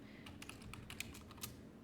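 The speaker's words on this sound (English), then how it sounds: "I'm going to regret typing this in," Fingers tap out a quick burst of keystrokes on a computer keyboard, close and crisp with an irregular rhythm, and no talking.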